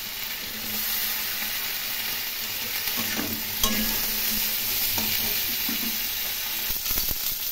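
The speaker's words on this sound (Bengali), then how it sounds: "আলু এবং ফুলকপিগুলো এখন একটু ভালো করে ভেজে নেব।" Potatoes and cauliflower fry in a pan with a steady, loud sizzle and hiss, while a utensil stirs and scrapes intermittently throughout; no voices.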